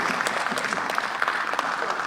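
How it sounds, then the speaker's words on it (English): Clapping fills a parliamentary chamber during a debate, steady dense applause from many hands held at an even level for the whole stretch, with no voices standing out above it. "especially those who are clapping now"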